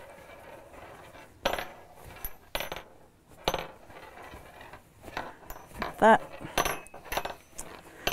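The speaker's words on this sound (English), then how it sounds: "Sorry about the noise from my rings." Metal rings clink and tap against sewing tools and a tote bag in progress, a few sharp scattered clicks and jingles close by, with someone speaking briefly in between.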